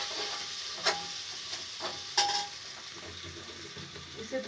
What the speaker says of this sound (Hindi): इसमें मैं डाल देती हूँ अदरक लहसुन कुटा हुआ, पेस्ट नहीं कुटा हुआ डाल दो, थोड़ा सा ब्राउन कर लूँ